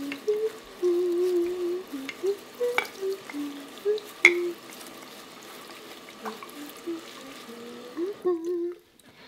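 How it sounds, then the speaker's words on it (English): A loofah is wetted under water at a bathroom sink, with running water splashing and sloshing for several seconds. A voice talks over the water before it cuts off. "I'm going to wet my loofah"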